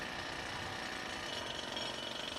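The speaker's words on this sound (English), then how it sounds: "His drill weighs 45 kilos." A heavy 45-kilo drill bores into concrete building columns high on a demolition site, a steady, dense rattling hammer held at a constant pitch for a couple of seconds, somewhat distant and fairly faint.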